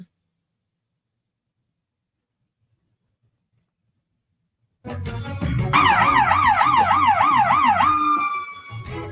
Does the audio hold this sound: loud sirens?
yes